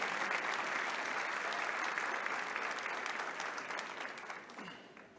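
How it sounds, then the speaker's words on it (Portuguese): A church congregation applauds steadily and loudly, dense clapping that fades gradually toward the end, with no voices heard over it. "Pode aplaudir ao Senhor."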